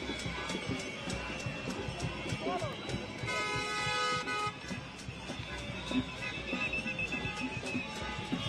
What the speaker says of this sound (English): You hear the many honking horns.